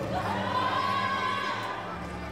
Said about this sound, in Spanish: Fuerte el aplauso para Jacín.